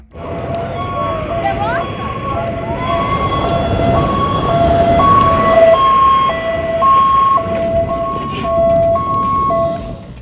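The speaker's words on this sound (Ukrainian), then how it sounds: "Почулася сирена пожежного автомобіля, який мчав на виклик." A loud two-tone fire engine siren wails steadily, alternating pitch over a low rumbling background, as a volunteer fire brigade truck at a mining and processing plant races to a call.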